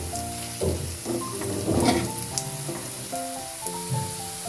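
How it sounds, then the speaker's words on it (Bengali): Spinach pakoras fry in hot oil as they are flipped to brown the other side, a steady crackling sizzle running throughout beneath louder tonal background music. "একদিকটা ব্রাউন কালার হয়ে গেলে আরেক দিকটা উল্টে দিচ্ছি ভাজার জন্য"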